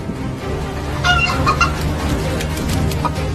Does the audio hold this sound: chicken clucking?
yes